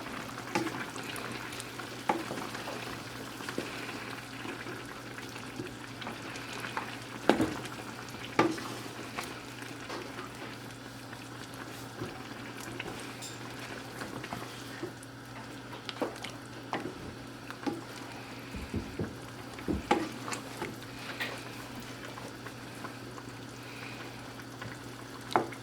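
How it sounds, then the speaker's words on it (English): A spoon stirs ketchup through stewed chicken in a pot, soft wet squelching and scraping strokes at an irregular pace over a low simmering sizzle, fairly quiet and close. "we're gonna stir it in a little bit"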